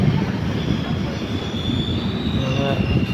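The Netravati Express rolls along the rails at a station, a loud, steady rumble of wheels with a thin metallic squeal rising near the end.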